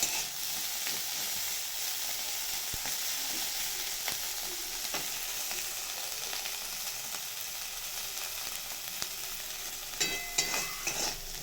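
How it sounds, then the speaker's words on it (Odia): Pre-fried prawns crackle with onion and garlic in hot oil, a steady hiss sustained close by with occasional spatula taps and a busier burst of sputtering near the end. "ଚିଙ୍ଗୁଡ଼ି ତ ଭଜା ହେଇଛି ଆଗରୁ, ତାକୁ ହାଲକା ଟିକେ ପିଆଜ ରସୁଣ ସାଙ୍ଗରେ ଭାଜିଦେବା"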